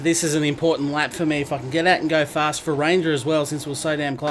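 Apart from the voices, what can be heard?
No everyday noises stand out.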